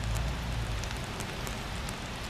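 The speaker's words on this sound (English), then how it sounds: "it is raining out here" Steady rain falls outdoors during a dog obedience training session, a continuous even patter and hiss with no talk over it.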